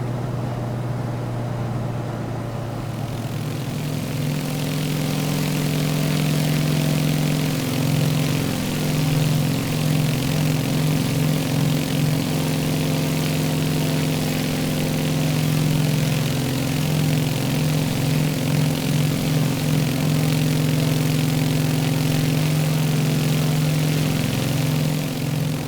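The radial propeller engine of a Carenado Beechcraft in a flight simulator drones at a steady 25 inches and 2,000 RPM in level flight, a loud continuous hum with a throbbing beat that swells in after a brief quieter start.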